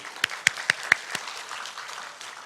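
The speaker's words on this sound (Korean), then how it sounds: "우리 박수로 한번 시작해 볼까요?" A handful of sharp claps ring out in a quick, uneven burst, then fade into a soft, diffuse patter of applause from a room.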